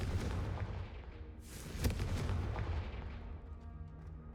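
A Confringo blasting spell in the Hogwarts Legacy video game: a deep rumbling boom swelling into a sharp crack at mid-clip, then a fading fiery rush; no talk.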